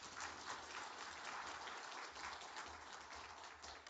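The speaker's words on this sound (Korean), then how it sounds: "박수로 환영하겠습니다." A church congregation applauds in welcome during a dawn session of a spring revival meeting, producing sustained, dense clapping that is fairly distant and soft and fills the whole four seconds without speech.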